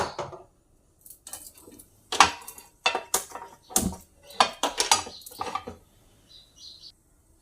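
A metal dosa pan set on a stove, a run of close clanks, scrapes and knocks of metal against metal over a few seconds, then quiet, with no talking.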